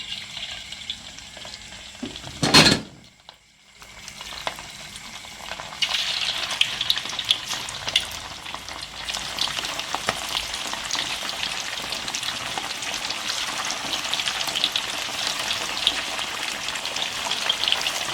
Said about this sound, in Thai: เดี๋ยวเอาลงทอดค่ะ ค่ะ กระทะเริ่มร้อนแล้วนะคะ ใส่ลงไปเลยค่ะ